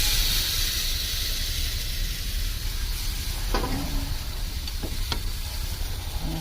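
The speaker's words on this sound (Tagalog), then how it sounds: "ginisa na natin sa bawang sibuyas yung ating pork" Pork sizzles steadily in a pan with garlic, onion and marinade, a dense, continuous hiss with a few faint clinks of a utensil against the pan.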